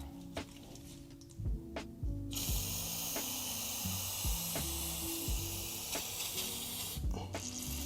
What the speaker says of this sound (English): I'm gonna hit it with a little bit of brake clean.